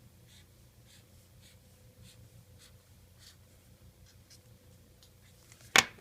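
A pen drawing on paper while plotting a graph, faint repeated short scratchy strokes in a quiet room, ending with one sharp louder tap or scrape.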